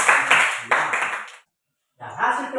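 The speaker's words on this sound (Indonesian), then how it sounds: "Oke, tepuk tangan dulu." A classroom of students claps hands together in a math lesson, two bursts of brisk, close clapping separated by a short silence, with the second burst starting after a pause.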